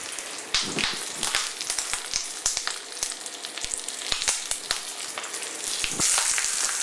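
Guinea fowl legs sear in a hot pan in a restaurant kitchen, a loud, steady sizzle and crackle of fat with sharp popping spits scattered throughout and a surge of frying toward the end.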